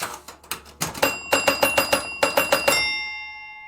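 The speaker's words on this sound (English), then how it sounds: "The bells here are just crazy right now." Pinball machine bells ring in a rapid, loud series of metallic dings, speeding into a near-regular rhythm before the last strike rings out and fades.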